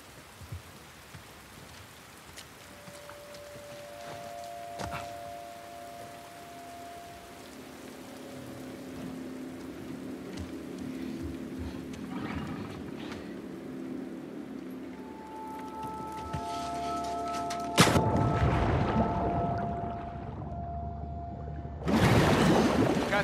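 In The Last of Us Part II, a boat engine drones low and steady under constant heavy rain. The hiss grows stronger, and a sudden louder burst of splashing comes near the end.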